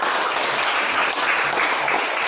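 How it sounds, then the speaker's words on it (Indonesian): Steady applause and clapping from a class of school pupils, a dense continuous patter of many hands at even loudness throughout, with no clear voices on top. "Tepuk tangan dulu"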